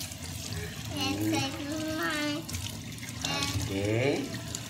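Water runs steadily from a tap as hands are washed, a continuous wash of noise sitting under a clear voice talking throughout.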